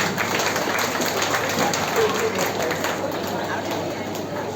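An audience at a public meeting at Kanjikuzhi Nankicity Government LP School applauds, a dense steady clatter of many hands clapping at moderate distance that continues for several seconds.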